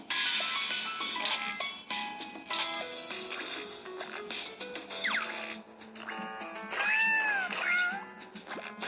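A cat meows repeatedly, several drawn-out rising and falling cries over a busy, steady background noise.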